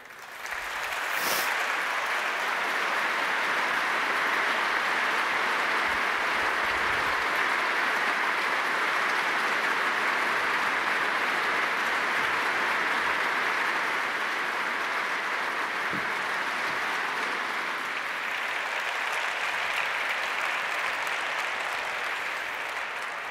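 Sustained applause from a large theatre audience welcoming actor David Suchet, a dense steady clatter of clapping holding loud and even for over twenty seconds with no talking.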